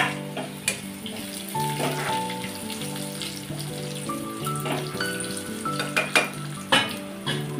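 Garlic and kasuri methi fry in hot oil for a dhaba-style akkha masoor, with a steady close sizzle and a few sharp crackles and spoon clinks over a constant background hum.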